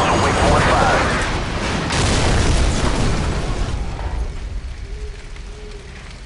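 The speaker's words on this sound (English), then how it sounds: "Incoming missile!" An incoming missile explodes in the Call of Duty: Modern Warfare video game with a loud, close boom that rolls into a long, fading rumble. Voices call out over the blast.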